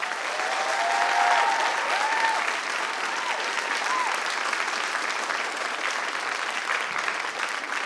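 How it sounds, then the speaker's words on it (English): Sustained audience applause for Sichuan Opera musicians after a Buddhist and ghost play performance, steady and dense throughout with faint crowd murmur and a few voices underneath. "I would like you to give them another round of applause"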